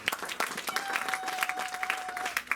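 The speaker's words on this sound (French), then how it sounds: "Donnons une acclamation" A church congregation breaks into dense, steady applause, close and full, with a sustained tone running through the middle of the clapping and a few voices mixed in.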